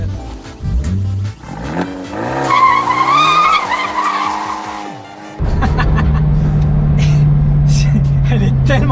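An Abarth 124 GT rear-wheel-drive roadster drifting with stability control off, its tires squealing in a long wavering skid that fades before the engine note returns loud and close.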